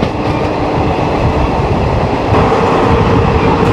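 The Shaktipunj Express from Howrah to Ranchi Road rumbles along at speed, a loud, continuous rolling roar with steady rail clatter heard from inside the coach.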